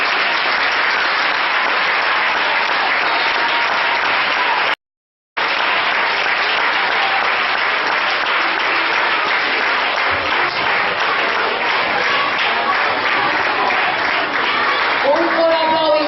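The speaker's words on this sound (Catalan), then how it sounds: "Una fort aplaudiment per ells." School theatre audience applauding parents who built the sets, a loud continuous wash of clapping that fills the hall, broken by a brief cut partway through, with faint voices near the end.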